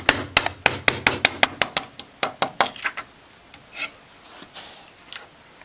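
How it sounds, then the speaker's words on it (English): A mallet taps a sharp paring chisel into wood to pare away waste for a lap joint, giving a quick run of about a dozen crisp, close knocks that slow into a few spaced, softer taps. "I think initially I'm going to give it a few taps with a mallet just to get going."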